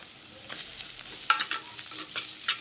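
Cinnamon and cloves fry in an oil-filled pan with potato, carrot and beans for a rice kichadi. A close, steady hiss and sizzle runs throughout, with light stirring scrapes and no talk.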